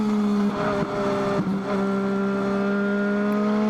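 Legends race cars lapping at Meridian Speedway, a sustained buzzing engine drone with steady harmonic pitch, brief dips and rises as cars jostle through traffic, close and loud with no talk.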